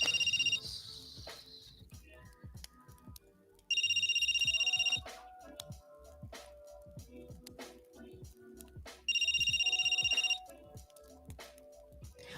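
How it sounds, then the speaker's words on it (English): A telephone rings in two long, bright bursts separated by quiet stretches, with faint ticking and low background sounds in between. "Would somebody pick up that phone? There's a phone ringing."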